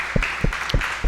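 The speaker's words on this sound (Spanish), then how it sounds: "Denle un fuerte aplauso a Jesucristo." Audience applause at a church service, heard as a steady wash of clapping from a crowd with periodic low thumps, moderately loud and continuous without speech.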